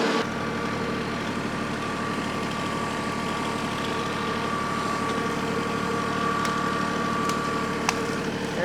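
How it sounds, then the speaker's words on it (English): A heavy tractor engine pushing over a tree rumbles steadily and loudly for several seconds, a constant low drone with faint clicks and creaks on top. "I think I can push it with the tractor now."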